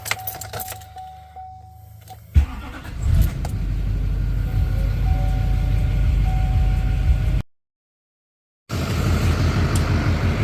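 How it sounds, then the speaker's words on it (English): A 2008 Duramax diesel pickup truck starts with a jangle of keys, then its engine runs at a steady, loud idle close by, broken by a brief gap of silence. "While the truck's running and doing its thing"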